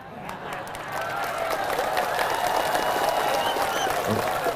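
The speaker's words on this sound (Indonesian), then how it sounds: "Banyak yang tepuk tangan, tak jadilah." A lecture audience at an Islamic sermon breaks into sustained applause, a dense steady wash of many hands clapping that swells and holds, with a voice murmuring faintly beneath.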